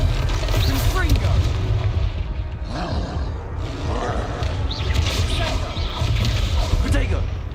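Confringo blasting spell explosion in the video game Hogwarts Legacy, a burst of booming, crashing blasts over a dense, continuous game soundtrack, with a sharp impact near the middle and more crashes following.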